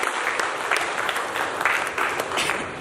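Steady applause fills the room at a 50th wedding anniversary celebration, many hands clapping together in a dense, continuous patter at moderate level without a break.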